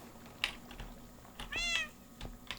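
A house cat meows a few times close by, short chirpy calls with one longer drawn-out meow in the middle, against a quiet room with faint clicks.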